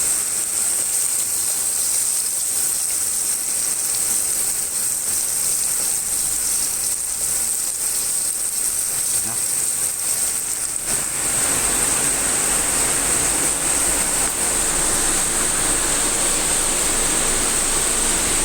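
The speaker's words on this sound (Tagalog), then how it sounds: "Malakas po ang ulan eh." Heavy rain pours steadily on a duck farm, a dense continuous hiss with no letup, growing slightly rougher and louder partway through, with no voices.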